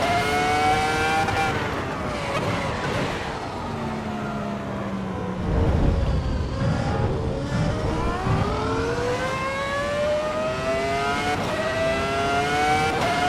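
V10 race car engine in the racing game Assetto Corsa Evo, loud and continuous, rising and falling through repeated gear changes with sharp revving climbs and dips, close and dominant throughout with no talk.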